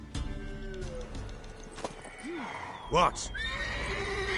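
A mare in The Witcher 3 lets out a loud whinny among hoofbeats and game ambience, and a voice briefly speaks nearby.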